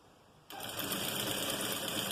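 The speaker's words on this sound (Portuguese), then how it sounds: "eu vou chegar aqui com a barra e vou fazer a minha costura de barra agora" A sewing machine starts suddenly and runs at a fast, steady whir while stitching a garment's hem, close and continuous to the end.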